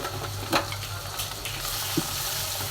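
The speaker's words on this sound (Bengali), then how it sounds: "তো ডিমটা দিয়ে কিন্তু সাথে সাথে নাড়া দিতে হবে।" Two eggs frying in a pan and stirred at once in an onion-greens egg bhaji, a continuous close sizzle with a few soft knocks of the spatula against the pan.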